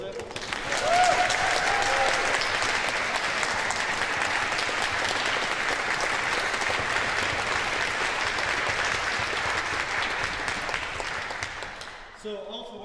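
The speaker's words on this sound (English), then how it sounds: "Piano Concerto in C by Annabelle Duff, if you'd like to clap the composer." An orchestra concert audience applauds a composer after new works are performed, a full crowd clapping steadily for about twelve seconds before it thins out at the end.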